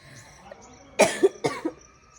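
Two quick bursts of coughing from a person who is unwell at home, close and fairly loud, each a short harsh cough with a brief rasp, over a quiet room.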